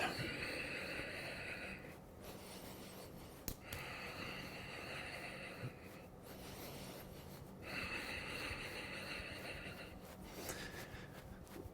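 Rapid, forceful rhythmic breathing in kriya exercise bursts, roughly two-second cycles of quick snorting inhales and exhales separated by brief pauses, faint and close.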